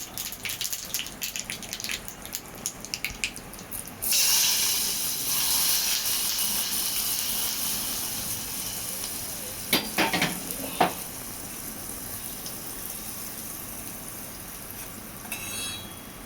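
Hot mustard-seed tempering poured onto chutney sets off a sudden loud sizzle that slowly fades into a softer hiss, broken by a few sharp crackles and spoon scrapes.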